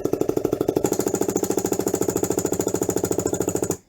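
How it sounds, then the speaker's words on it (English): A GS-0810AC vibration-reduced industrial air riveting hammer is run slowly on a feathered trigger, giving a steady, loud, rapid train of hammering pneumatic blows that stops abruptly at the end. "Now we're going to see the controllability of this riveting hammer."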